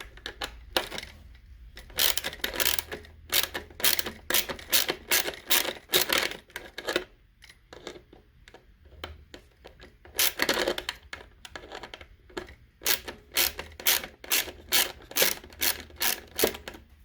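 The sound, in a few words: socket wrench removing fuel pump screws on VW/Audi 1.8T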